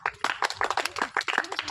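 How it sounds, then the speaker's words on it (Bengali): A burst of hand clapping after a correct quiz answer, rapid and uneven claps from a few hands, close and bright, lasting under two seconds with no talk. "হাততালি।"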